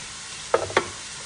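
Chopped celery and red bell pepper stirred in a pan for Chinese-style macaroni, two quick scraping strokes of the utensil over a low background hiss, no voices.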